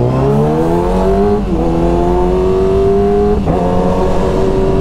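A Kawasaki ZX636 sport motorcycle engine revs hard and close, its pitch climbing steadily, then dipping briefly twice as it shifts up through the gears, loud and unbroken with no talk.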